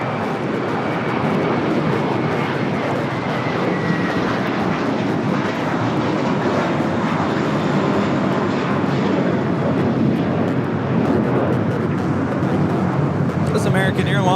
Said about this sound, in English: American Airlines 1979 taking off to Chicago on the A321 in the Piedmont Airlines retro livery.